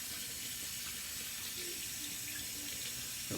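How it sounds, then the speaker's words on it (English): Cold water runs steadily from a bathroom tap into a sink, a close, constant rushing splash that stays even for a few seconds with no talking. "Now change to cold water"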